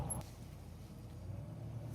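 Range Rover P38 Autobiography cruising along country lanes, heard as a low, even engine and road drone from inside the cabin, quiet and steady throughout.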